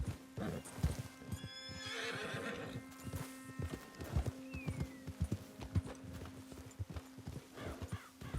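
A horse whinnies loudly in Red Dead Redemption 2, then hooves clip-clop in an uneven rhythm close by, with a few scattered thuds and no talking.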